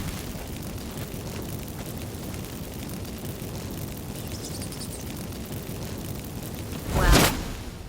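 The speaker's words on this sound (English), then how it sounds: "Get ready for some magic fireworks." Magic fireworks from activated incense in The Witcher 3 go off as a single sharp, bright burst near the end, after a long stretch of low, churning rumble.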